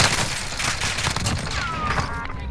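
Sustained video-game gunfire rattles in dense, rapid bursts for the whole stretch, loud and close, with no talking over it.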